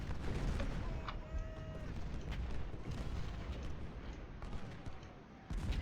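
Rifle volleys and battlefield gunfire crackle in the Civil War strategy game Ultimate General: Civil War, a dense, continuous rumble of muffled shots and booms with occasional sharper reports, under faint game sounds.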